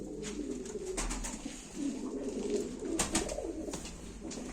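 Turkish tumbler pigeons at a live bird auction give repeated deep, warbling coos, several birds close by with their calls overlapping, broken by sharp clicks and handling sounds.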